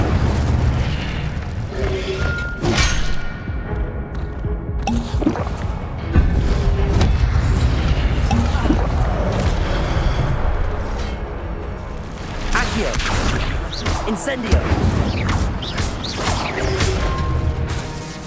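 Incendio fire spell cast in the video game Hogwarts Legacy, heard amid continuous booming, crashing combat effects with blasts and mechanical impacts, loud and dense throughout.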